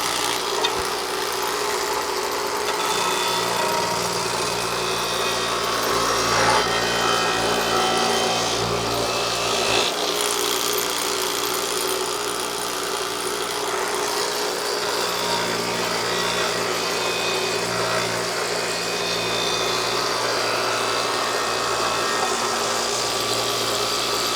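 An aluminum finned valve cover is pressed against a spinning buffing wheel loaded with compound, producing a continuous loud rushing, rubbing drone with a motor hum underneath, steady throughout with no talking.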